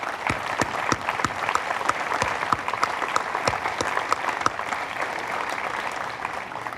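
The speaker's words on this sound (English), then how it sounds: "Let's give them all a big round of applause." A crowd gives steady, dense applause for veterans who marched at a community event, a continuous wash of many hands clapping at a moderate distance, with no talking over it.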